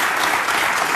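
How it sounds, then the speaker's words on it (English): Studio audience on a political talk show breaks into steady, dense applause, a continuous wash of clapping filling the whole moment with no pauses. "I like how they just applause for anything"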